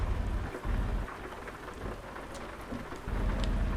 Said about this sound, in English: the rain started again